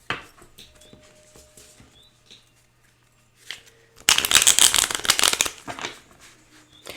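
Tarot message cards are handled and shuffled, first with scattered light taps and rustles, then a loud, close burst of rapid riffling and flicking that fades into a few soft shuffles.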